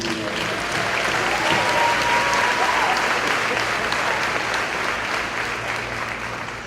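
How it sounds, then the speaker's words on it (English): Broad, sustained applause from a college commencement audience, a dense wash of clapping that stays loud and even from start to finish, with a few faint voices mixed into it. "And I just want to give a round of applause to you."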